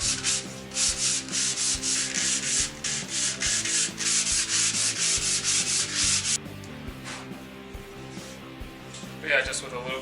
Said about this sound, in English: a little bit of hand sanding will probably do the trick